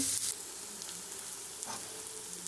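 Golden onions frying with turmeric and chili powder added, a steady moderate sizzle with an occasional spoon scrape, close and uninterrupted.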